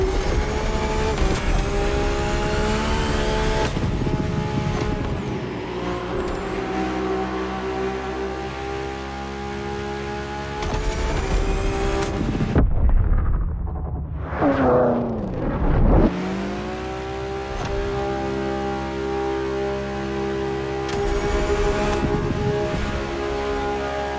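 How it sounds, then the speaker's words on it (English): A Ferrari in The Crew Motorfest roars through a tunnel, its engine loud and echoing with rising revs and gear changes, a brief lull mid-run before it builds back to a sustained howl. "this car sounds nice in the tunnel"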